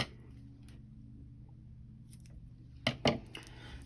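Scissors cut a sheet of paper in half, giving two quick, crisp snips close by near the end after a stretch of quiet room tone.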